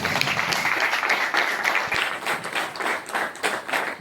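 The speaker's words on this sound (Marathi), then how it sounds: "एक जोरदार टाळ्या वाजवा" Audience at a municipal corporation inauguration event in Pimpri Chinchwad breaking into vigorous applause, dense clapping near and loud that holds steady for several seconds without talk.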